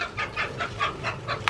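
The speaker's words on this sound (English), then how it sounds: "sounds like chickens." Chickens cluck in short repeated bursts at a steady rhythm, fairly close, with no voices.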